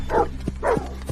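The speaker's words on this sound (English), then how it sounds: "Those aren't normal dogs." Dogs bark and yip in short, loud bursts about every half second, close by, with whiny tonal edges on the calls.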